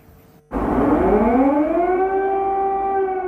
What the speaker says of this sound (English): people woke up to the sounds of sirens